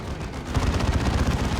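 Rapid missile launcher and las cannon fire in the Warhammer 40,000: Dawn of War 2 strategy game, a dense burst of booming, crackling shots that thickens and grows louder halfway through, with no talk.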